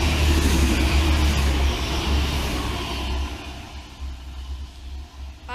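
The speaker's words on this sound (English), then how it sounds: "Two First Trans-Pennine Expresses pass each other southbound from Heald Green." Two First TransPennine Express trains pass each other near Heald Green station, a loud close rushing roar of wheels and motors that fades away gradually.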